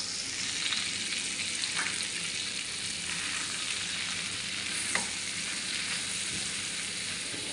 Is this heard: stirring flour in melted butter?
yes